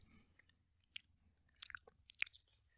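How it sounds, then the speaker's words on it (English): Close chewing picked up right at a microphone, a few sharp wet crunches and bites scattered over quiet moments with a low background hum, no talking. "I could hear everything you were chewing on."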